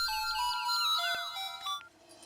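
A melodic electronic phone ringtone plays close by, bright repeating tones for about two seconds before stopping.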